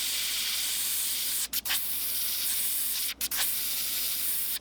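Aerosol spray paint hissing in steady bursts as fluorescent yellow is misted through a stencil onto a fishing lure, close and continuous with two brief pauses between sprays, no talking.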